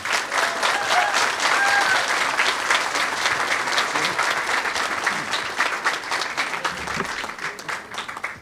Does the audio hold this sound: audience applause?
yes